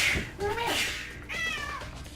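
A pet cat meows twice in quick succession, close and fairly clear, with people talking softly in the background.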